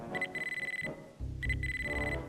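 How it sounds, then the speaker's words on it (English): An electronic pager in the Dino Crisis video game beeps insistently in two bursts of rapid, pulsing tones, with a low rumbling ambience filling the gap between them. "Stop the beeping on the pager."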